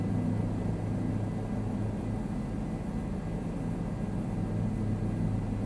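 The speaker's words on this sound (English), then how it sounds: "Let's hover for a minute to get a feel for the aircraft." Steady, low rumbling drone of a Bell 407 helicopter hovering in Microsoft Flight Simulator, constant engine and rotor noise with no talk over it.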